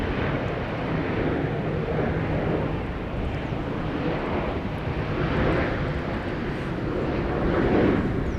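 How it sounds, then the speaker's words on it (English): A KLM airliner arriving from Rio de Janeiro at Schiphol Airport sends a steady, broad jet engine roar across the whole clip, swelling slightly near the end, with no talking over it. "Quickly over to KLM flight 706 arriving from Rio de Janeiro"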